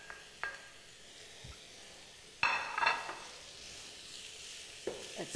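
Green, yellow and red peppers are stirred in a hot pan, giving a steady low sizzle with occasional utensil scrapes and a louder burst of frying noise midway.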